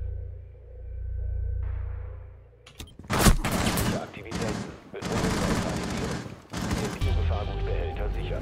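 Automatic weapon fire in a ranked Rainbow Six Siege match on the Red Orchid map: after a quiet lull, several loud, close, rapid bursts of gunfire crackle in quick succession, separated by brief gaps.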